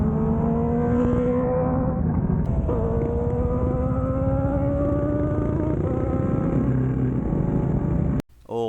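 An inline-four motorcycle engine revs high and loud in a sustained, rising scream that holds steady for several seconds, then cuts off abruptly near the end.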